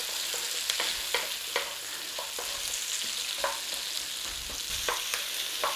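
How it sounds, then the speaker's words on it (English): Onion frying in a hot pan over a gas flame gives a continuous close sizzle, with occasional clicks and scrapes of a utensil stirring at irregular intervals. "We're just going to get a flame on, heat up the pan. And we're going in there with our onion."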